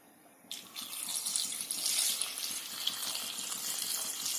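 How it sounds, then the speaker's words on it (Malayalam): Water gushes steadily into a pot of grapes being prepared for homemade wine. The pour begins suddenly after a brief quiet moment and continues as a loud, close, rushing flow. "അപ്പം മുന്തിരി കിടക്കുന്നതിൻ്റെ ആ ഒരു ലെവലിൽ നമ്മൾ വെള്ളം ഒഴിക്കുകയാണ്."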